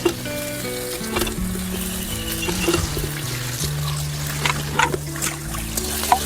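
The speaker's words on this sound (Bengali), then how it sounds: "পেঁয়াজটা ভাজি" Chopped onion frying in a pan with cumin, a steady sizzle punctuated by scraping stir strokes, heard beneath ongoing background music.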